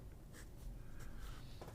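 A Pelikan P363 fountain pen with a stub nib scratches across paper in short, faint strokes, close up and quiet.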